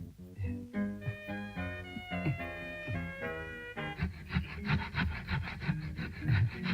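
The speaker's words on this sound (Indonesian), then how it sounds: "Ini gergaji." A hand saw works through wood in a 1994 Indonesian comedy film scene, with rhythmic rasping strokes blended with a tonal, music-like layer, steady and fairly prominent throughout.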